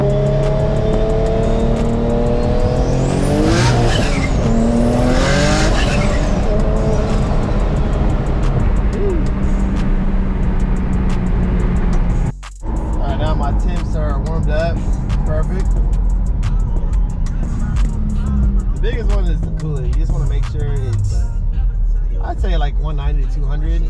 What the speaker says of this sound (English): there's nothing like banging gears and just driving and just feeling and hearing the turbo